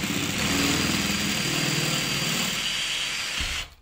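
A 12 mm masonry bit drills steadily into a window frame for a trickle vent, a continuous grinding whir lasting several seconds and stopping abruptly near the end.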